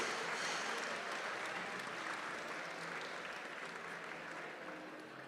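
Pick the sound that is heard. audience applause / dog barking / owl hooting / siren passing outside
audience applause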